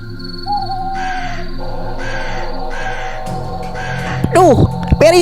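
A crow caws loudly several times close by, harsh repeated calls cutting over steady ambient music and background sound.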